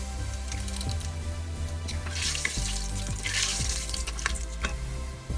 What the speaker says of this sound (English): In the same oil, I am adding 2 bay leaves, little bit cinnamon stick, 5 to 6 green cardamom and some cloves.